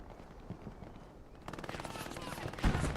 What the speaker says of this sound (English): MG42 action on the left.